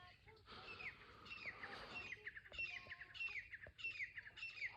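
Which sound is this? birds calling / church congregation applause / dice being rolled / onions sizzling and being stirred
birds calling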